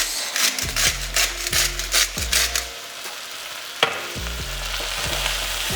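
Dry seasoning and salt are worked into a bean burger mixture with rhythmic rubbing, scraping strokes against the bowl, a run of quick repeated scuffs, a brief pause, then more steady mixing.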